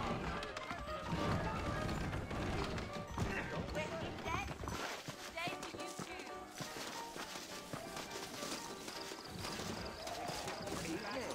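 Horse hooves clip-clop steadily in the Red Dead Redemption video game as saddled horses set out, the rhythm running throughout beneath game music and ambient sound.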